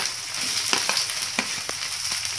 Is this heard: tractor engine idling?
no